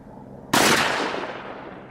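One loud, close gunshot, a 44 Magnum or 12 gauge slug, fired at chunks of concrete block outdoors, with a sharp crack and a rumbling tail that fades over a second or so.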